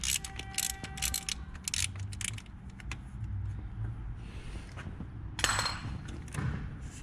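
A hand wrench ratchets loose two 12mm bolts on the clutch line of a Mitsubishi Evo 5, giving rapid close clicking bursts with metallic scrapes and soft clunks in between.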